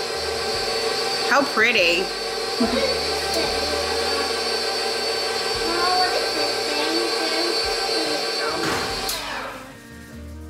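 An electric mixer runs steadily on low speed through melted chocolate and butter, a continuous motor whine with a brief voice speaking over it near the end as the motor winds down.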